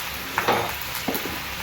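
Raw banana slices fry in a home kitchen pan, a soft steady sizzle broken by a few short scraping stirs of a utensil, close and fairly quiet.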